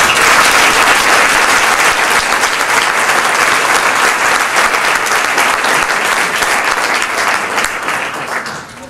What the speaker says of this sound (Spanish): Vamos a darnos un super aplauso a nosotros mismos